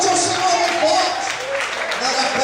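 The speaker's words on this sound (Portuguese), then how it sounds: "Aplauda Ele, exalte o Senhor em forte" A church congregation claps in praise during a sermon, a loud, dense wash of applause filling the room with voices over it.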